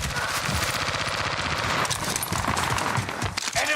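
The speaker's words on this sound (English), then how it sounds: "Shots." Continuous rapid gunfire in an army shooter game, a dense, loud rattle of automatic shots running throughout with a few sharper cracks mixed in, no talking over it.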